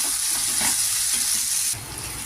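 Ginger and garlic stir-frying in a pan for a Bengali prawn curry, a steady loud sizzle with scraping stirs that drops slightly near the end, no talking.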